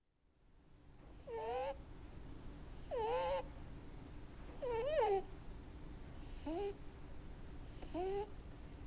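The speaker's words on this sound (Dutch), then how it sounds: "het snurkende konijn is natuurlijk, dat is een van mijn geluiden" A rabbit snores in five separate bursts, each a short wavering, whistling snort spaced about one and a half to two seconds apart over a steady low background hiss.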